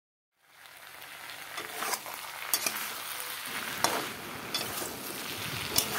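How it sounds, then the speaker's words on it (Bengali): Potatoes and eggplant fry in a hot pan with oil, giving a steady close sizzle that swells and crackles with a few sharp pops and stirring scrapes throughout. "আলু বেগুন এখন লাল করে ভেজে নেব"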